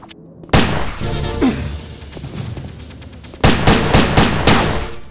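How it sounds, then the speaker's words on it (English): A gun fired in the video game Headhunter: a sharp loud shot with ringing echoes, then a second cluster of rapid blasts a few seconds later. "so if you miss you fire a shot and attract all the attention."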